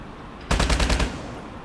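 A quick burst of about six rapid shots from the Hbra3 gun in a first-person shooter game, loud and close, lasting roughly half a second before fading into quiet background.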